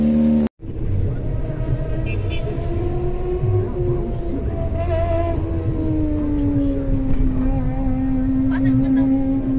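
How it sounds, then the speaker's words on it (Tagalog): A car drives past in a steady, loud engine drone with a gradually shifting pitch, running through the whole stretch after a brief cut near the start. A voice talks over it. "Yan na pong kotse guys."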